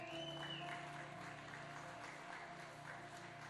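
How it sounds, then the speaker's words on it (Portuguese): A congregation applauds in church to welcome the preacher at a Sunday morning family service, with steady, moderately faint clapping over a sustained hum throughout. "Uma grande salva de palmas."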